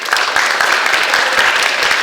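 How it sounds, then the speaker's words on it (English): A crowd at a graduation cap and gown assembly applauding, a dense, steady burst of clapping that fills the room for a couple of seconds with no pause. "Give yourselves a big round of applause."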